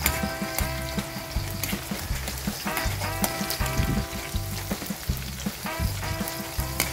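Lots of garlic sizzles and fries steadily in a little cooking oil in a pan, the first step of a chicken liver and gizzard adobo. The crackle is dense and continuous, with occasional louder pops and stirring clatter, and no talk over it.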